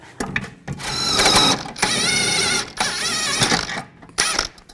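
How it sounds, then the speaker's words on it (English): A bolt comes off the rear upper control arm of a 2006–10 Volkswagen Jetta using a 21mm socket and wrench, in loud, close bursts of whirring mechanical ratcheting separated by brief pauses. "Now we're going to take this bolt out. Use a 21mm socket and a 21mm wrench"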